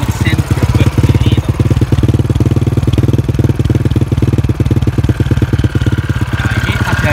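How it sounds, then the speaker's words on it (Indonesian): An old motorcycle engine idles close by with a loud, rapid, evenly pulsing thump that runs steadily throughout, a faint chirping in the background. "Tuh, kita nyalain ya. Nah, suara mesin kalian dengerin."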